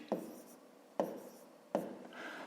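Pen writing numbers by hand on paper for a long division problem, three short scratchy strokes spaced roughly a second apart, close and quiet.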